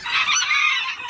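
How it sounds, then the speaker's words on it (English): Old English Game Bantam cockerels in a coop stall call out in one loud, close, strained squawking crow lasting about a second. "I've got some cockerels in here right now"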